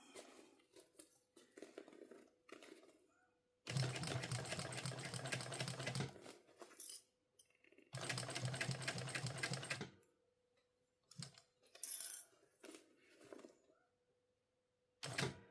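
A sewing machine back stitches while a bum bag is sewn, with two loud bursts of rapid, steady needle chatter separated by quieter handling noise, close to the microphone, plus scattered faint clicks and rustles.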